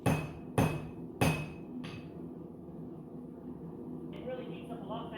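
Hammer striking hot railroad spike steel, four sharp ringing blows spaced about half a second apart, then quieter ringing and tool clatter, with a voice talking.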